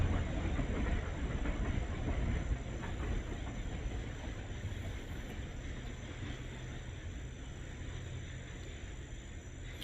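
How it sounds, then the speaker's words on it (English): A passenger train rumbles steadily in the distance, a low continuous rolling drone with faint clatter that eases slightly over ten seconds; no clear whistle stands out. "I hear the whistle from this train coming through, which is the regular train, the passenger train."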